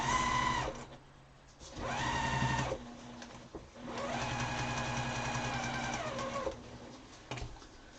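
A home sewing machine runs in bursts while stitching a mask, its motor whirring and needle chattering close by in several start-stop runs separated by short pauses, with the machine skipping stitches.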